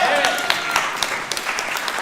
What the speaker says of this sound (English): We can have another round of applause for Aaron.